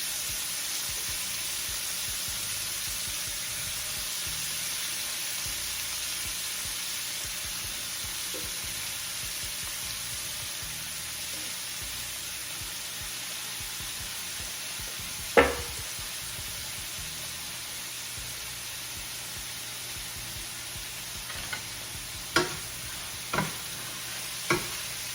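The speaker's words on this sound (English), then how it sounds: "We're just going to saute it up just a little bit." Seafood sautéing in a pan for pasta, a steady low sizzle running throughout, with a few sharp utensil clinks and taps near the end.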